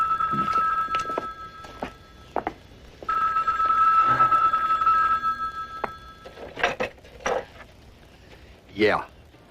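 A telephone rings in a tense 1988 drama about the Philippine revolution, a steady trilling bell sounding in repeated bursts at mid distance, with short spoken exchanges and thumps breaking in between rings.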